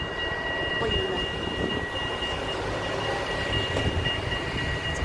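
A tram rolls past on a hiking route, a steady rumble of wheels and motor that holds throughout with a faint high whine, sounding moderately close.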